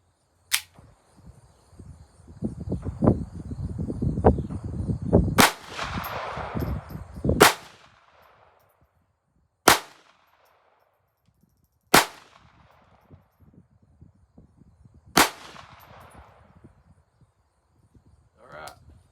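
Sharp gunshots from a Kel-Tec P17 .22LR pistol firing Browning ammunition, about six spaced cracks with a slow irregular rhythm. A burst of talk and outdoor range noise comes in early, and the later shots ring out alone with quiet gaps between them.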